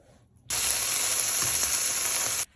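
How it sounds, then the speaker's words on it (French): Kafta patties sizzle loudly in a pan with a little fat, a steady broadband hiss that starts abruptly and holds for about two seconds before cutting off, with no talking. "vous prenez une poêle avec un petit peu de matière grasse et vous venez faire cuire vos petites steaks de kafta"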